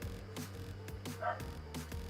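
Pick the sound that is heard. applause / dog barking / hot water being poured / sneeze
dog barking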